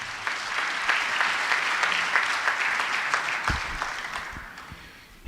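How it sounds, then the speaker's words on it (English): Conference audience in Nairobi giving a sustained round of applause, dense even clapping that carries through, with a few low thumps near the end as it begins to fade. "Let's give him a round of applause."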